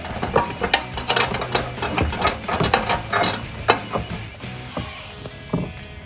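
A hand ratchet loosens a nut while fitting a front bumper on a 2007-2013 Chevrolet Silverado 1500, giving rapid bursts of close metallic pawl clicks in an uneven rhythm, with a brief pause near the end.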